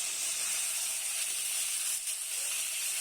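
Chicken fries in a pan on the stove, giving a steady, even hiss and sizzle that holds at a moderate level for a few seconds with no talking over it.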